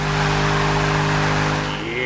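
A Dodge Charger Hellcat V8 in the Forza video game, a loud, steady engine drone held at constant revs, close and continuous with no talk.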